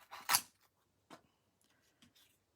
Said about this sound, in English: And I'm going to cut this.